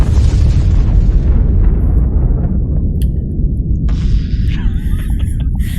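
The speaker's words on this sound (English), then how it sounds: "a massive explosion and a giant ball of fire erupts from the direction of the Hardway Clubhouse" A massive explosion with a giant ball of fire erupts near a clubhouse, a loud sustained roaring boom that rumbles and slowly decays over several seconds, with faint crackling and debris sounds toward the end.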